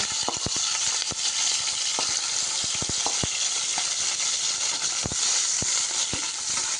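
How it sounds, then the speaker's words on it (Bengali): Shrimp fry in a pan with a loud, constant close-up sizzle and scattered sharp crackles and pops, no voices present. "দেখতে পাচ্ছেন চিংড়ি মাছটা ভাজা হচ্ছে"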